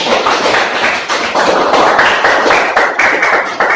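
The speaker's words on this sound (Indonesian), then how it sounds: "Tepuk tangan buat Fauzan" Students in a classroom applaud a classmate, a dense burst of many hands clapping steadily for a few seconds with no talking.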